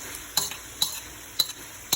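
Shrimp stir fry in a pan after soy sauce is added, with a soft background sizzle broken by four evenly spaced scraping stirs of a utensil against the pan.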